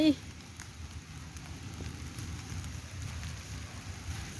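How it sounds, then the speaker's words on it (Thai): Heavy rain falls steadily in the open countryside while gathering vegetables in the fields, a soft, even hiss throughout with no clear talk. "ฝนมากแล้วพี่น้อง เอ้ยโอ้ยฝนตก ฝนตก"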